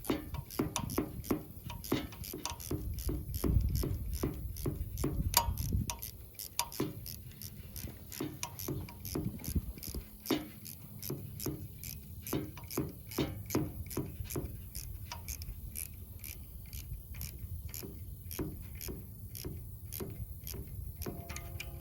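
Ratchet wrench with a 5/16 socket tightening the radiator hose clamps on a 1953 Ford Golden Jubilee, a long run of quick, close clicking strokes with steady rhythm over low background rumble.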